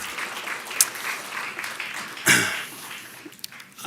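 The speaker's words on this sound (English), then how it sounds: "giving yourselves a round of applause for being here" An audience at a university lecture in Evansville applauds, a steady, even wash of clapping from a crowd filling the hall, with a brief cough and a few louder claps.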